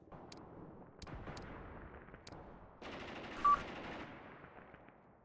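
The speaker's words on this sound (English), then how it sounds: "Some kind of heavy fighting is going on." Heavy fighting in Mius Front: several distant sharp gunshot cracks ring out, then a denser roll of machine-gun and rifle fire swells and fades, loud but somewhat remote, over a low battlefield rumble.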